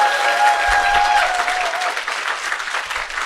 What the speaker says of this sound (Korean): 여러분 자신을 위해서 큰 박수 한번 치고 시작해볼게요.